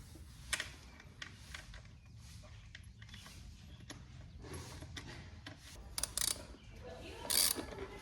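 A ratchet tightening bolts on a Honda CRF50 dirt bike gives several close, brisk bursts of clicking with scattered clanks of tool against metal, loudest near the end over a low background rumble.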